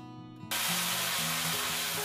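Chard curry with coconut cream cooking in a pan, a sudden loud steady sizzle that starts after a brief quiet moment and keeps hissing evenly with faint bubbling.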